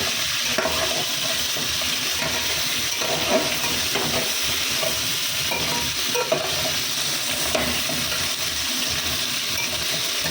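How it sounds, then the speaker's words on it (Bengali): Chicken sizzles steadily in hot oil in a pan, a dense, continuous frying hiss that stays close and even throughout, broken only by occasional soft stirring scrapes and light clinks. "চিকেনটা ভাজছি আজকে।"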